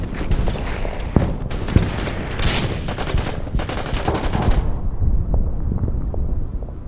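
Gunfire and artillery pound a bunker in the Order of Battle wartime strategy game: dense, rapid volleys of shots and bursts crackle continuously at close range before dropping to scattered, quieter pops.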